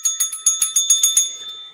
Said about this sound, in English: finally we wrestled the bell away from Christian's cold, dead hand.